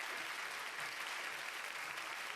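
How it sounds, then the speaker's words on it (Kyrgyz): Faint, steady applause from a concert audience after a singer performs a Kyrgyz song, an even, distant hiss of many hands clapping with no distinct voices. "Кол чабалар сизге."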